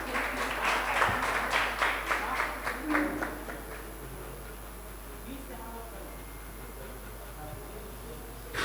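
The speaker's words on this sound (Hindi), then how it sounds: "जिसके हाथ में मोबाइल फोन्स नहीं है वो तो तालियां बजा दें खुलकर।" Audience applause at a Hindi poetry gathering in Gorakhpur, a few seconds of scattered clapping that swells and then fades while a voice speaks over the room.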